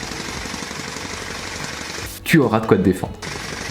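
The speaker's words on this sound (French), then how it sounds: "si t'as un marteau-piqueur le jour du bac qui est juste à côté de ta salle" A jackhammer pounds in a rapid, continuous low rattle in the background, steady and moderately loud, before someone briefly speaks over it.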